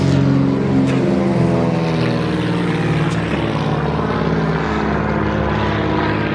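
Small propeller planes fly over Alaska, their engines droning loudly and steadily with a buzzing, harmonic hum that never lets up.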